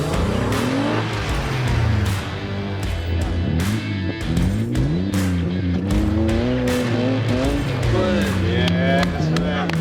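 Car engines race up a timed hill climb course, rising and falling through gear changes with tyre squeal in the corners, loud and continuous with some talk over it.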